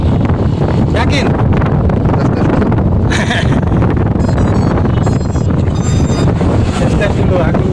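Strong wind at the Bahteramas bridge in Southeast Sulawesi roars and buffets the microphone continuously and loudly, with a drone's faint whine and a voice briefly in the mix.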